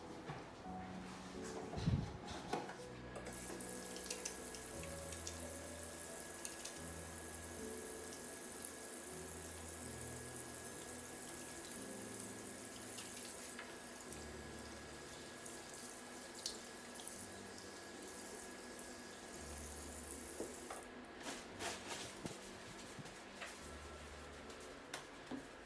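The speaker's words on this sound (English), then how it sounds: "and wash your hands." A tap runs steadily into a sink for hand washing in a dental practice, a soft, continuous splash with a brief clatter near the start and faint handling noises throughout.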